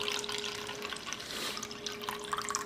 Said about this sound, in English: The next step is to get the water out.